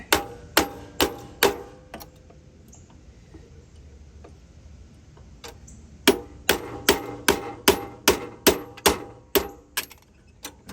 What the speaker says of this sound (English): got the roll pin punch. And let's see how willing this is to come out